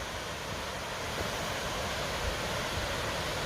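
Long Creek Falls on the Appalachian Trail in Georgia, a steady broadband rush of falling water, constant and fairly loud with no talking.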